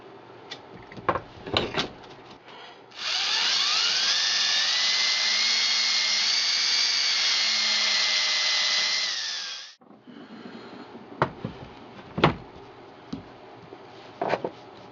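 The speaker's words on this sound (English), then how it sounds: "Just drilling the holes for the" A power drill bores holes for a sailboat's deck hatch in one sustained high whine lasting about seven seconds. Scattered knocks and handling clatter come before and after it.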